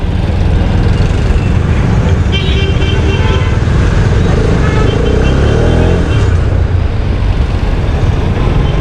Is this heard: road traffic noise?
yes